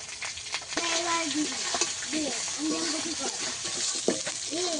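Spice masala with turmeric, chili powder and green chilies fries in a pan for a ridge gourd and hilsa fish curry, giving a continuous close sizzle and hiss with a muffled voice partly audible over it.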